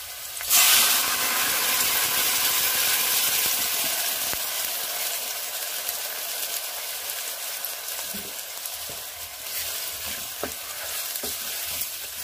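Ground spice paste for honagane soppu saaru hits a frying pan of browned garlic and onion with a sharp burst of sizzle, then settles into a steady, loud hiss with faint stirring.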